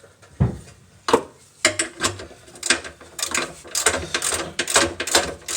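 A 3/8 ratchet with a 13mm socket clicks rapidly in repeated bursts while driving bumper reinforcement bolts into a 1998 Dodge Grand Caravan, close and crisp, with short pauses between runs of ratcheting.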